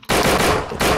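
Rapid automatic gunfire in a spooky horror-house video game, a loud sustained burst that starts abruptly, dips briefly and resumes near the end.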